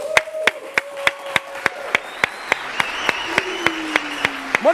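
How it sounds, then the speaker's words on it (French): A crowd applauds a singer in a broad wash of clapping, with regular sharp hand claps keeping a steady beat through it, under a sliding tone. "On va encore l'applaudir, s'il vous plaît."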